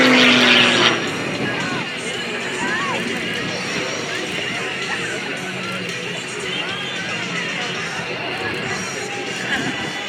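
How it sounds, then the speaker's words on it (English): Aerobatic airplane performing at the Leesburg airshow, a steady engine roar holding loud and continuous throughout, with a short higher whine at the start and voices talking over it. "the performance of this airplane is just incredible"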